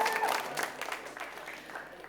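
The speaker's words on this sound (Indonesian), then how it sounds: "Tepuk tangan dulu untuk Regu B." Studio audience clapping for a quiz team on a televised quick-answer quiz show, a fairly quiet, steady spread of hand claps that thins out toward the end.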